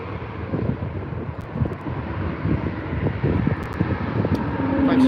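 An aircraft idles and creeps along a taxiway at Birmingham airport, a broad low rumble with gusty wind buffeting the microphone, rising slightly toward the end; no one speaks.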